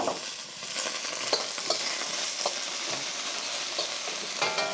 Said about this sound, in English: If you're hearing the sear and seeing smoke come off the wok, your temperature is always perfect.